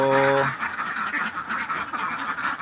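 Pet ducks quack in a close, busy cluster, their calls overlapping continuously at moderate loudness after a brief tonal hum at the start, with a person's voice faintly underneath.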